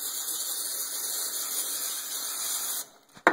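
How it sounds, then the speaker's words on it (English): Can of PAM non-stick cooking spray hissing onto a skillet, a steady, close, continuous spray for nearly three seconds that cuts off abruptly, followed by a faint click. "spray the pan down with some PAM or some non-stick cooking spray"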